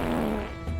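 A short, buzzy fart sound of under a second, fairly loud and alone, with a low rasping tail at the end.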